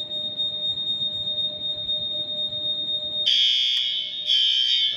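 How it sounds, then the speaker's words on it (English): A fire alarm set off from a manual call point starts after a steady high electronic tone, blaring loud in two strong pulsing bursts, close and alone. "So you are successfully enabling the fire alarm devices"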